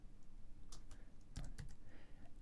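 Keys tapped on a computer keyboard while numeric values are entered into a software field, a quiet run of close, crisp clicks in uneven bursts with a brief louder cluster midway.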